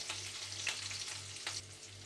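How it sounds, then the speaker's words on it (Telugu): Onions, green chili and garlic fry in a pan with a soft, continuous sizzle and faint crackle, fairly quiet and steady throughout, with no voices. "ఇప్పుడు ఇవి కూడా ఇందులోకి వేసేసుకొని ఉల్లిపాయలు ఫ్రై అయ్యే వరకు ఫ్రై చేసుకుందాం."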